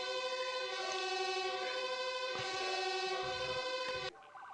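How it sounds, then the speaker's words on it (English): Video game sirens in 911: First Responders wail steadily with layered tones that rise and fall, faint and continuous, before cutting off abruptly. "I can actually hear the sirens now."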